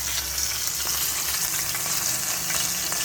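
Stuffed pomfret frying in oil, Malvani style, making a dense, steady, close sizzle with faint crackles and a low hum underneath, heard alone without talk.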